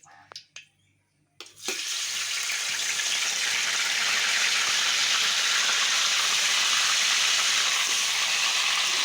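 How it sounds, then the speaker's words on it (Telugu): Masala spice mixture dropped into hot oil for a paneer masala curry, bursting into a loud, steady sizzle that starts suddenly after a few quiet taps and holds unbroken to the end. "ఇప్పుడు మనం ఇందాక చెప్పినటువంటి ఈ మసాలా మిశ్రమాన్ని ఇదే ఆయిల్లో యాడ్ చేసుకుందాం"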